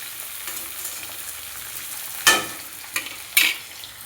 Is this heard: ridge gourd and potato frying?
yes